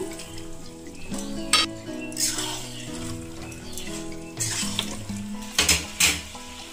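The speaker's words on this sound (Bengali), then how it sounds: "আলুগুলোও দিয়ে দেবো" Potatoes go into a pan of vegetarian jackfruit curry, with a few clanks of a utensil against the pan over a gentle sizzle, while music plays in the background.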